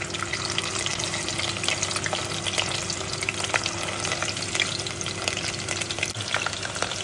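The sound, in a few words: deep frying potato tacos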